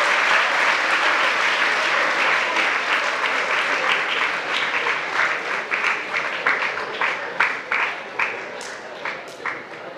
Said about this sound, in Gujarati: આ બધાને તાળીઓથી વધાવો